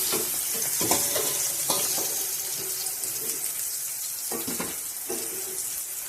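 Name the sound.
frying flat beans (shim) in oil, stirring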